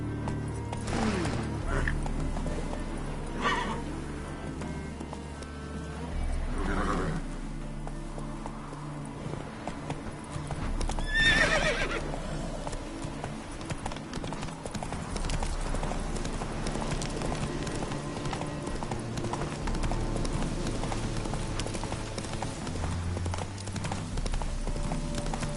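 Horse hooves clip-clopping in The Witcher 3, a steady rhythmic gait running throughout over game music and ambience, with brief rider voice calls.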